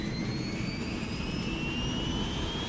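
A BAe Hawk jet engine spooling up in a flight simulator, a loud steady roar with rising whistling whine tones climbing gradually through the start sequence, no voices.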